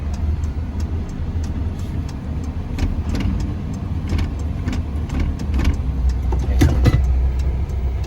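A 2022 UD Trucks Croner PKE 250 hp utility truck pulls away in first gear, its engine a steady, loud low rumble that builds slightly as it accelerates, heard from inside the cab.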